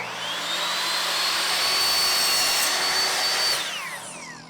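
A power saw cuts a piece of wood at night during a sprinter van conversion, building a solar panel rack and ceiling; one steady, loud whine runs for about three seconds, then winds down at the end.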